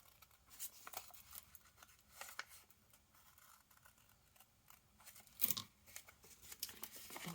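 Paper treat bag being slit down to its fold, with scattered soft crinkling, small cuts and a sharper snip or tear near the end, close and fairly quiet with no talking.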